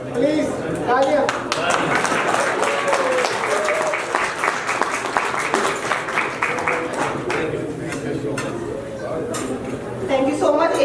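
Sustained audience clapping at a Gilgit Baltistan Day celebration holds at a steady level, with individual sharp claps standing out, and a voice speaks over it as it tapers slightly near the end.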